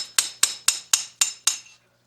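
A hammer drives a chisel into the concrete of a leaking basement wall, giving six sharp, evenly spaced metallic strikes, close and loud, each ringing briefly before silence.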